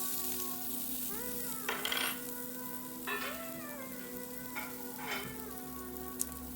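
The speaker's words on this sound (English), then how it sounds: "once you fry it enough, they become golden and crispy" Baby marrow slices fry in a pan for vegan sandwiches, a steady close sizzle running throughout with a constant hum beneath and a few soft stirring or clinking bursts, no voices.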